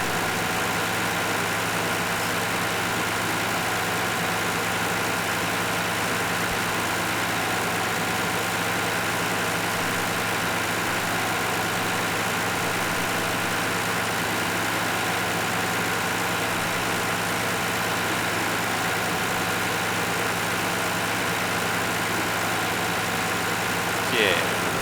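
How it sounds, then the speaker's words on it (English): A tractor engine in the Farming Simulator 2013 video game drones on at a steady, unbroken idle for the whole stretch, even and continuous with no changes in pitch or level. "drive this back to the farm, pick up a cultivator. Hopefully this tractor's big enough to pull it."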